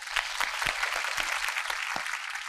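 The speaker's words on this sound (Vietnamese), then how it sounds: "vỗ tay." A small group claps in an indoor setting, light irregular hand claps pattering for a few seconds at moderate distance, fairly soft and without voices over them.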